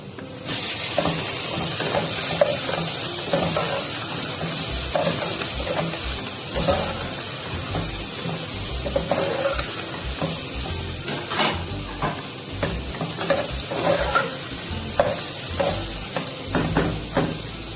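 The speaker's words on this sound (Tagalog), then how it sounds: "Ngayon naluto na ang sibuyas, isunod na po natin ang ating hipon." Shrimp and onions sauté in a pan for misua soup, a constant hiss of frying with soft intermittent scraping and stirring taps throughout, no talk.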